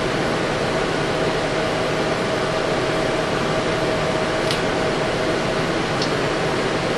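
Cooling fans and a small pump run off a low battery that powers a 48-volt ZVS induction heater, making a steady broadband whir with a faint hum. They go on unchanged throughout, apart from two tiny ticks.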